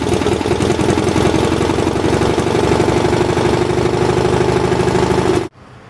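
Gasoline engine of a Lincoln LincWelder 225 Plus welder idling steadily under idle control, a loud, close, even chugging drone that cuts off abruptly near the end.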